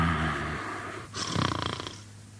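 A voice imitating Gordon the big engine snoring, a slow rough snore and breath followed by a rattling, fluttering snort, close and fairly soft.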